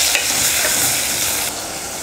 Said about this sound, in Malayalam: തക്കാളി ചേർത്തിട്ട് നല്ലതുപോലെ വഴറ്റി എണ്ണ തെളിയുന്നിടം വരെ ഇത് വഴറ്റിയെടുക്കണം.